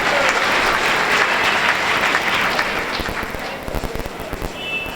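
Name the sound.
loud applause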